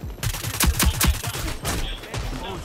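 A loud, rapid burst of video game gunfire: several quick shots in close succession followed by more scattered firing, all up front and dominant.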